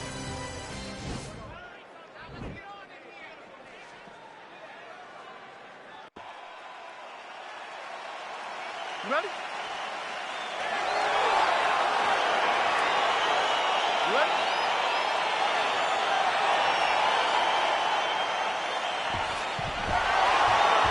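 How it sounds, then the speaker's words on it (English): Video game UFC middleweight bout crowd noise as the fight begins, a broad roar that rises and holds steady under a commentator's talk, with a sharp thump partway through. "crowd getting excited as this fight gets underway"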